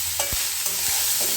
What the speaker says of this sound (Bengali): এবার নাড়িয়ে চাড়িয়ে নিলেই রেডি ভাত ভাজা।